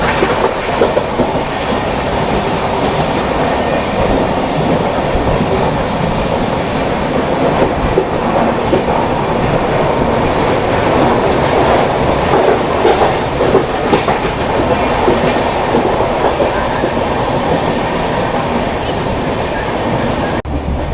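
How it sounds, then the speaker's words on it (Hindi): A Mumbai local train rumbles loud and steady onto a track bridge, a continuous heavy roar of wheels and rattling carriages with clickety-clack rhythm, no voices over it. "ये ट्रेन उस पर चढ़ने वाली है"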